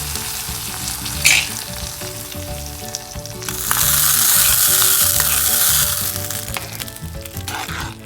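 Hot tempering is poured into a raw plantain kalan, a thick Kerala curry, in a pan with the heat switched off. It sizzles loudly, swelling to a strong hiss midway and then slowly fading, with no talk.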